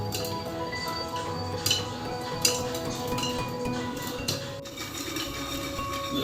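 Popcorn cooks in a cooker, with sparse, faint ticks and clinks of kernels popping and hitting the metal scattered over a low background hum, no voices.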